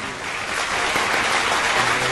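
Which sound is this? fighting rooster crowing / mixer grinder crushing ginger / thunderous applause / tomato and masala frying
thunderous applause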